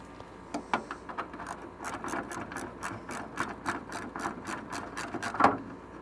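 A socket ratchet works a bolt loose under a 1965 Mustang, giving a steady run of quick metallic clicks in short repeated strokes, close and moderately quiet with no voices.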